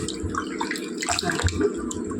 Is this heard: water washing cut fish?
yes